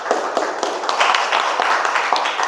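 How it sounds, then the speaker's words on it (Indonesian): A classroom audience applauds student group 4 after their presentation, with brisk, fairly loud scattered claps continuing steadily throughout, individual hand strikes poking out of the wash. "Tepuk tangan untuk kelompok 4."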